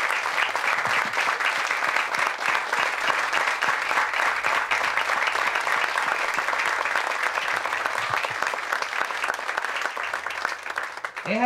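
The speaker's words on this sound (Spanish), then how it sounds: "nosotros le damos un fuerte aplauso a Enrique Eduardo Cortés." Audience applause at the inauguration of a community center in Savarona: steady, dense clapping from a crowd that holds for about eleven seconds, close and full, then thins at the very end.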